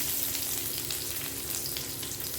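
Mustard seeds, cumin, small shallots and curry leaves fry for an egg curry, making a steady dense sizzle with faint popping that stays loud and unbroken throughout.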